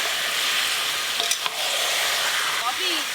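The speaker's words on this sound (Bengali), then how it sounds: "এইভাবে নেড়ে নেড়ে মাংস খুব ভালো করে কষে নেব।" Meat, likely chicken, is stirred and fried in a pan, a loud continuous sizzle close up with scraping stirring strokes and a couple of brief utensil knocks.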